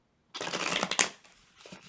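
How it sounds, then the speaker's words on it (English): Tarot cards are riffled in a quick shuffle, a close crisp burst of flapping card edges followed by a softer second flutter. "I'm going to shuffle the cards 3 times in a row"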